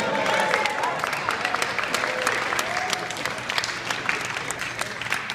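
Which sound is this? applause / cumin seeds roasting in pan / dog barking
applause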